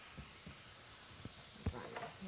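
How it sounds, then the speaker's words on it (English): Crumbled tofu sizzling in a hot skillet for a vegan breakfast scramble, a steady broad hiss with a few soft scraping taps from a spatula, close and moderately loud. "we're going to crumble it into the hot skillet, like so"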